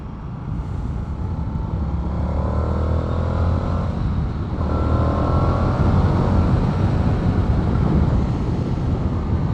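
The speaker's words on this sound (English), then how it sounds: "I think one thing with the FTR, you know, it revs really high." Indian FTR R Carbon motorcycle engine revving while riding, a loud, continuous engine roar with rising pitch sweeps as it accelerates through the gears, mixed with heavy wind noise.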